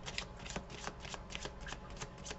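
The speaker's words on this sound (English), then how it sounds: "you'll hear me shuffling in the background" Tarot cards being shuffled by hand, a steady run of soft papery riffles and flicks close by, continuing throughout with no voices over it.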